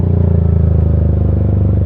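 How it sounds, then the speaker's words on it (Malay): A fully custom motorcycle exhaust on a running engine, a loud, steady low rumble with a rapid pulsing beat, heard close and alone with no voices. "Saja testing exhaust ni."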